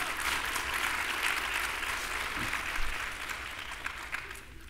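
Audience clapping at a speech event, a sustained round of loud applause from a crowd that rises, holds steady and then starts thinning out toward the end, with a faint voice in the mix.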